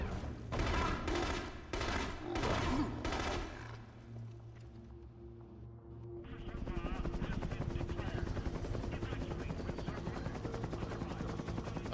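A helicopter under attack in the video game The Conduit gives a loud rhythmic rotor thumping, broken up at first by bursts of rapid gunfire, then settles into a dense, continuous roar.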